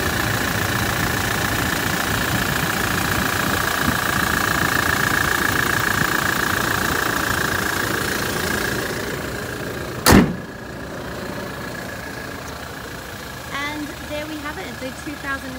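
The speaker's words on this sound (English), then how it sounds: "Listening to the engine, there's no clunks or banging, which is always a good sign as well." A 2016 Toyota Hilux SR5 engine idles steadily and close by, with a single sharp knock or door-like thud midway and faint talk in the background.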